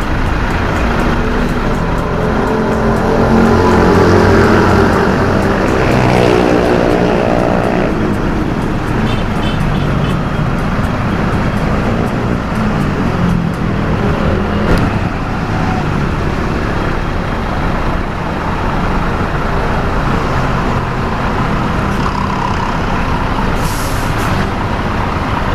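A TPD bus with four exhaust pipes, two on each side, gives a loud, continuous engine rumble with road and traffic noise, steady throughout with no talk.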